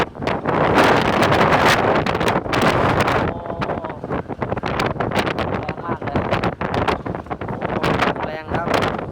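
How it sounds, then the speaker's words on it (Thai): Strong storm wind from Typhoon Megi buffets a handheld phone microphone, roaring loudly and continuously with gusty surges, with someone speaking in bursts over it. "ลมแรงโอ้"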